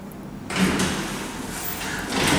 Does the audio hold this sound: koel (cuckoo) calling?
no